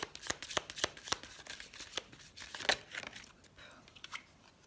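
A deck of oracle cards for lovers is shuffled by hand, giving a quick run of crisp riffling snaps and papery slaps, close and fairly soft, with no one talking.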